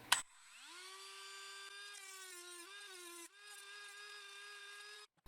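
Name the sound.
Dremel with cut-off wheel cutting an arrow shaft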